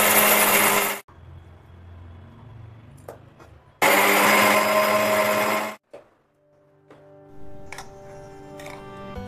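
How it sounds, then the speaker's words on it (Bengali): A mixer grinder whirs loudly in two bursts, grinding cooled, lightly fried chillies into paste for idli and sambar; each burst cuts off abruptly into quieter clatter and faint rattling. "তারপরে কিন্তু মিক্সিতে দিয়ে ভালো করে পিষে নিতে হবে"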